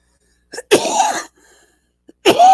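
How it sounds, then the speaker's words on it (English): Two loud, close sneezes separated by a short pause, each with a sharp inhale before the burst. "There's your sneeze."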